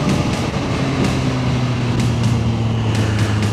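A 2023 Triumph Street Triple 765RS motorcycle with an Akrapovic exhaust, its engine giving a steady, loud droning hum that holds a constant pitch throughout, with no talk over it.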